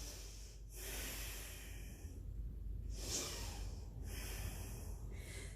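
Steady yoga breathing held in downward facing dog during a Yogalates class, with close, soft inhales and exhales through the nose repeating in a slow rhythm, without talk.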